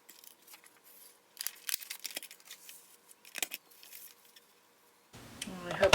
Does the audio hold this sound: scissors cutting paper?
yes